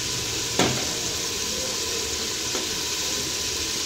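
Masala gosht sizzles steadily in hot cooking oil as garam masala is added, a loud, continuous close frying hiss with a single brief clink near the start.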